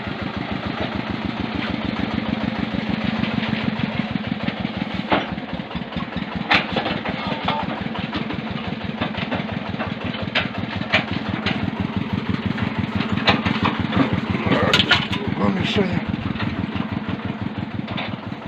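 A tractor engine chugs steadily in a low, even rhythm, close by and continuous, with a few faint clanks over it, while hauling firewood.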